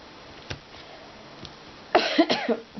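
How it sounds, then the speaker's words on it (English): A person with a croaky, lingering cold coughs once faintly, then gives a louder cluster of two or three close coughs near the end. "Still coughing"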